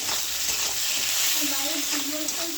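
Tomatoes with chili and cumin powder are stirred in a frying pan, giving a steady close sizzle and hiss with soft scraping strokes throughout, under quiet background noise.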